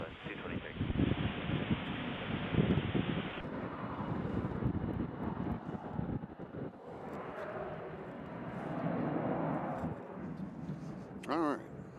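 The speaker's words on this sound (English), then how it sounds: "the fact that the MD-11 cleared that fence is beyond me" A McDonnell Douglas MD-11 at UPS Louisville airport roars past, a broad rumbling jet engine noise with wind buffeting that swells and fades, while a person talks over it.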